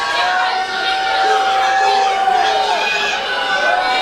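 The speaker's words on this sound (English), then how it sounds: "Crowd's not shushing for 𝗦𝗦𝗊. No. They only got louder." Wrestling crowd at a PrideStyle 37 match roaring in a steady, loud, dense wash of cheering and chatter that swells throughout, with high shouts and a sustained whistle-like tone riding over it.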